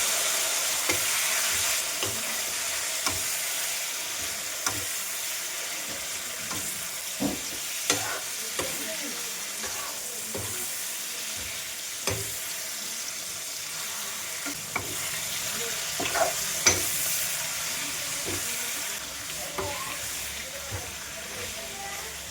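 Pork meat fries in a pan with onions that are already browned and is stirred now and then. A continuous sizzling hiss runs throughout, with occasional sharp crackles and spatters from the stirring.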